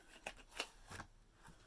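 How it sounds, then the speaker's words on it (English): A deck of Messages of Light oracle cards riffled and shuffled by hand in a few quick, crisp bursts, quiet and close, with no talk. "And let's shuffle."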